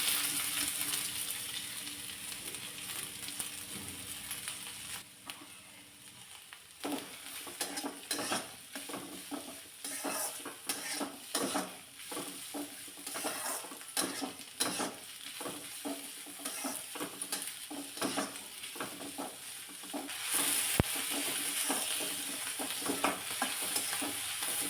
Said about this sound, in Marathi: आता कढईमध्ये अगदी थोडंसं तेल घ्यायचं आहे